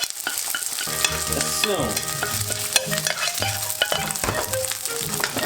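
Eggs and rice for Japanese fried rice fry in a very hot pan, with a steady loud sizzle and repeated clanking strokes of a utensil stirring throughout.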